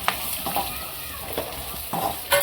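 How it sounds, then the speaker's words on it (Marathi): Whole spices roast in a dry pan for homemade turmeric and coriander powder, with a soft continuous sizzle and several scraping stirs of a spoon, close and without voices. "मसाले आहेत ते पण सगळे भाजून घेऊ"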